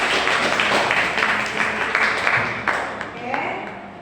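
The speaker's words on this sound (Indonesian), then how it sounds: "Beri tepuk tangan untuk kelompok." Students clap for a group during a classroom lesson, a brief, moderately loud burst of scattered applause that thins out toward the end, mixed with background voices.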